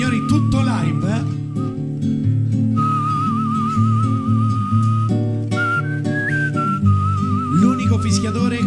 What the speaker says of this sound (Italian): Fischiatore con il diaframma, con la bocca aperta.